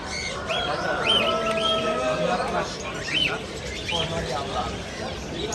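Goldfinches and other caged birds at an exotic animal market chirp and whistle repeatedly, with bright overlapping calls over a busy crowd murmur and talking voices throughout.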